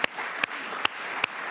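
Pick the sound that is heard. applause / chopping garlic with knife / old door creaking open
applause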